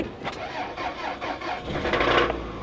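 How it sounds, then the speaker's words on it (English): A 1993 Nissan Maxima engine cranks and catches, then runs rough with a rod-knock undertone, rising in loudness toward the end. "Oh, I heard a rod knock."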